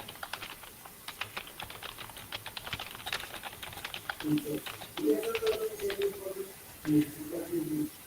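Rapid, steady clicking of keys on a computer keyboard as a header is typed, close and continuous, with a voice talking over the latter part.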